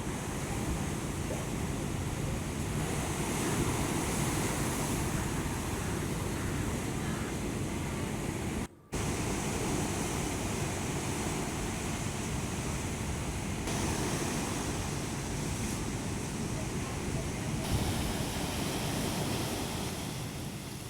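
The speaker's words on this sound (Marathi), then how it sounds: "लाटा उसळणार आहेत" Large sea waves crash onto the Mumbai shore during a high tide, making a continuous, loud roar of surf mixed with heavy wind buffeting. There is one brief dropout near the middle.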